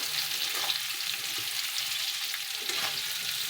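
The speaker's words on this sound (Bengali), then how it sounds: "এবার আলুটা তেলে ভেজে নিচ্ছি ভালো করে" Boiled potatoes fry in hot oil in a Bengali home kitchen, giving a steady, bright sizzle and crackle that lasts throughout with faint stirring sounds and no talk.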